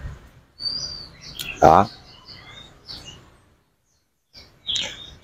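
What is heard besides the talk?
red-whiskered bulbul singing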